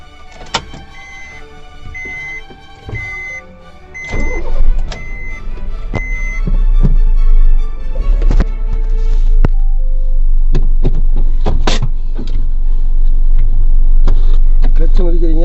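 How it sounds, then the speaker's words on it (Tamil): A car engine cranks and catches from inside the vehicle, then settles into a steady low idle rumble, with a voice talking nearby during a hill-ramp driving lesson. "வண்டியை ஸ்டார்ட் பண்ணுவோம்."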